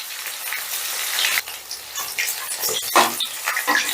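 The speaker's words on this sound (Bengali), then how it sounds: "এক পিসটা ভাজা হয়ে গেছে আর এক পিসটা আমি উল্টে দিচ্ছি" Chicken pieces frying in hot oil crackle and sputter in bright, uneven bursts, with louder pops and a clatter as a piece is turned over, no talk.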